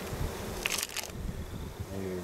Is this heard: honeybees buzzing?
yes